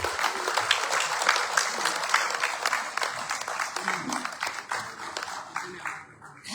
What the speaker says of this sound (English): Please clap for them. And the people that make it happen.